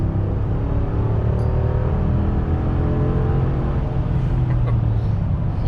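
A 2019 pickup truck, either a RAM 1500 or a Ford F150, accelerates on the highway with a steady, loud low engine drone and rising road and wind noise heard from inside the cab.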